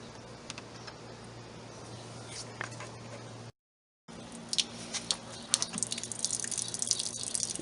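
Water trickles and drips from a rusty toolbox in quick irregular patters, faint and close, with a brief silent gap before the drips grow busier.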